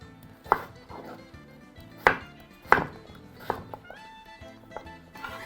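A knife thuds against a cutting board as potatoes are chopped, in a loose, uneven rhythm, several sharp chops standing out from softer taps, close by with no talking.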